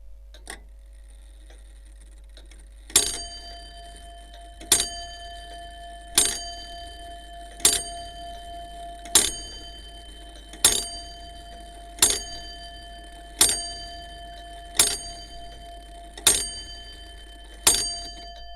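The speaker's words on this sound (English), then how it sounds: "So this is a field recording of a clock." A clock recorded through a contact mic sounds a series of bright, ringing chime strikes, evenly spaced about every second and a half. Each strike decays into a sustained metallic tone over a faint steady hum.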